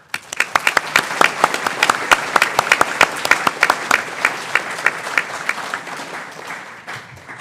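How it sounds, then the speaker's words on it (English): An audience applauds, many hands clapping together in a dense, lively burst that gradually thins out toward the end. "please hold your applause until I introduce all of them"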